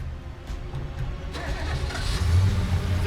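A car engine starts and the vehicle drives off, its low rumble building steadily in loudness and pitch over a few seconds against steady outdoor background noise.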